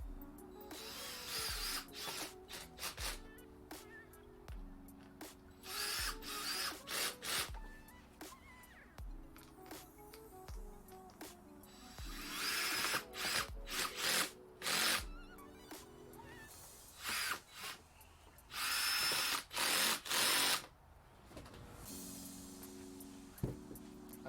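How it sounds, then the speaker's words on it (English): A power screwdriver on a low setting drives screws into a universal front splitter for a 2012 Mazda 2, in repeated short whirring bursts separated by pauses and small handling clicks. "get your screwdriver, put it on a very low setting like 3, and then just screw them in."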